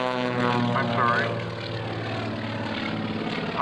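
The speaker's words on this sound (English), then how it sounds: "Holds the airplane upside down and does that outside push." A propeller airplane drones through aerobatics at an air show, its engine note rising and shifting steadily over the field while an announcer talks over it.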